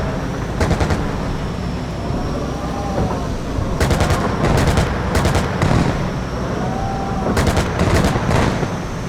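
Rapid autocannon bursts from a BMP-2 infantry fighting vehicle in a PC tank simulator, several loud clusters of shots over a steady engine rumble and battle noise.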